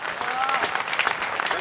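An audience at a Hindi poetry recital in Raipur claps briefly and densely, loud and close, with a voice speaking over the applause.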